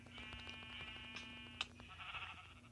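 Sheep in the video game Minecraft give a few soft, quavering bleats over a faint steady hum, followed by a sharp click and a brief burst of higher noise.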